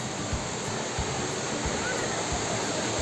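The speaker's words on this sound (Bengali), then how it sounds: "জলের আওয়াজ শুনতে পাচ্ছেন।" Water from a dam near Sitakunda in Bankura rushes in a steady, dense roar on its way down to a waterfall, continuous and fairly loud, with faint low thuds beneath.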